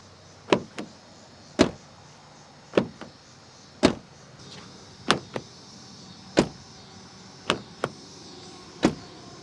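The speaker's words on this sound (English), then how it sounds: "opening and closing the rear doors gives you somewhat of a cheap sound" The rear doors of a 2024 Mazda CX-50 Turbo thud shut repeatedly, about a dozen sharp, somewhat cheap-sounding slams and clunks spaced irregularly, close by with a faint background hum and no talking.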